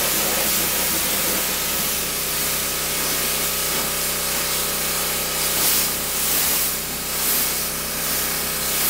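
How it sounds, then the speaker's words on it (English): Water sprays steadily into a car-wash bucket holding two synthetic wash mitts, a constant close hiss with no talking. "we'll spray some water in that"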